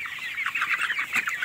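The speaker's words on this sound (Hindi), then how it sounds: "हमारे पास 600-700 मुर्गा और मुर्गी है" Desi Double FG chickens and roosters on a poultry farm cluck steadily, a dense overlapping chorus of close, moderately loud calls with no talking.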